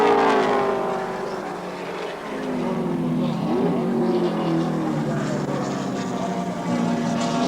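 Group C touring cars racing at Symmons Plains in 1984, a loud sustained engine roar with shifting, rising and falling pitch as cars pass and change gear, filling the whole stretch.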